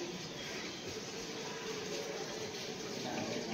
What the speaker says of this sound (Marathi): या बालदीमध्ये ना आम्ही पाणी भरून रोज ठेवतो